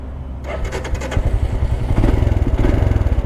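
A Royal Enfield Scram 440 motorcycle engine cranks and catches, then settles into a loud, steady rumbling idle with rapid pulsing beats, close by.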